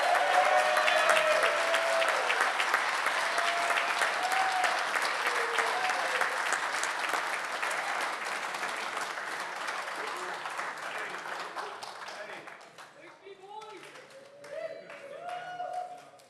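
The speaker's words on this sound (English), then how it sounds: "Let's give Pat Burns a big round of applause." A large audience gives sustained applause for an honoree in Huntington Beach, a broad even wash of many clapping hands that slowly fades, while voices and cheers rise near the end.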